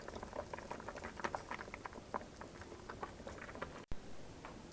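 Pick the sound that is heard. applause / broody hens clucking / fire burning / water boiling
water boiling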